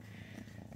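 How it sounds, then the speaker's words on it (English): A kitten purring close up, a soft, low, continuous rumbling drone, quiet and steady, with no voices over it. "He's purring."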